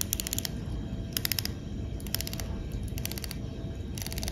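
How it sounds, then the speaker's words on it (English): Bezel on a Seiko Prospex Blue SPB187J1 dive watch being turned, a unidirectional 120-click ring giving several quick bursts of fine metallic ratcheting clicks, close up, with short pauses between turns. "Unidirectional bezel, 120 click."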